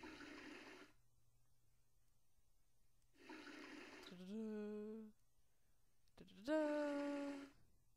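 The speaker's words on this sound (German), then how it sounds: "hier können wir wieder ein paar Blumen gießen" Water being poured onto flowers in a children's adventure video game, heard as two short watery bursts with rising tonal chimes in an otherwise quiet game scene, with no talk.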